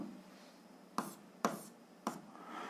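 Three short scratchy pen strokes, about half a second apart, as a yellow marker labels point A on a graph during an algebra exercise; quiet and close, with low room hum in between.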